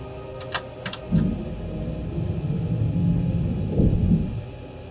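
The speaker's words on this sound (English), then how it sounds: "Gear down." Landing gear of a Boeing 747 extending on approach to Montreal: a few light clicks, then a low rumble that swells in and holds steady, with a brief surge near the end and no voices.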